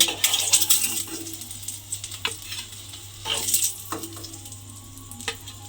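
Eggs frying in hot oil in a pan for a chana dal and egg dish, a loud continuous sizzle with crackling spits and a few metallic clinks of a utensil.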